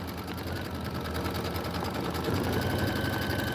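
An Aveneer Lumina sewing machine stitches quilt sashing in a fast, steady mechanical whir. The faint rhythmic ticking runs continuously and swells slightly near the end, with no talk over it.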